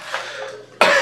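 A single short, sharp cough from a man, heard close and alone at the end after a faint quiet lead-in.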